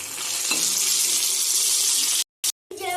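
Fish pieces fry crisply in a hot pan with a loud, dense, steady sizzle up close, briefly cutting out to silence twice near the end before resuming.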